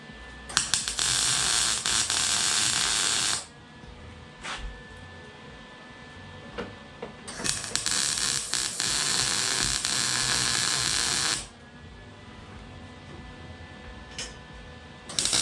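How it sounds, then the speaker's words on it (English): A welder crackles and sizzles while tacking and beading race-car door bars into a GC Subaru. Two long, loud arc bursts of several seconds each are separated by a few brief sputtering tacks and quieter pauses. "I'm going to put a slightly heavier weld"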